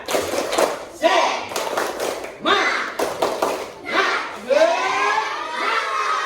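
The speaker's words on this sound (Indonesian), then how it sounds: "coba kita tepuk senang dulu, tepuk semangat dulu ya. Tepuk semangat." A classroom doing a rhythmic 'tepuk semangat' clapping cheer, with bursts of group clapping and thumps mixed with chanting voices, close and lively, in several short rounds.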